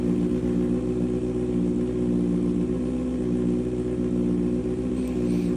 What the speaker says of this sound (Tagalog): Wala tayong magagawa, inline 4 sadyang malakas talagang makina. Kailangan mailabas ang tunay na tunog, ma-unleash ang power.